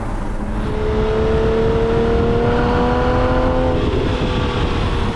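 A RUF Rodeo sports car engine drones loud and steady from inside the cabin while driving, its tone rising gradually as it pulls under a continuous rumble of road noise.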